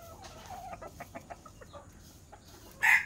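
Bantam hen giving a run of soft, quick clucks close by, followed by a brief louder squawk at the end, with no talk.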